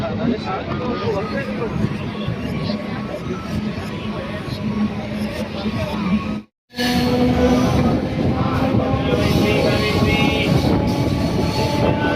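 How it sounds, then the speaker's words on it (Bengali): A train pulls into Bishnupriya station with a continuous loud rumble and rattle of wheels and carriages. The noise briefly cuts out, then resumes at full strength, with faint voices beneath it. "ট্রেন ঢুকছে, ট্রেন ধরে চলে যাব জামালপুর"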